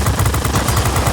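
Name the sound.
warplane machine gun fire in World of Warplanes video game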